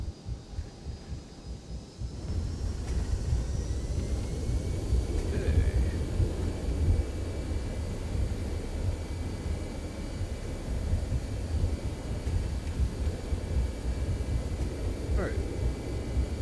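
Airbus A319 thrust reversers roaring during landing rollout in X-Plane 12, a low, rumbling engine surge that swells after a couple of seconds and holds steady, with faint tones above it.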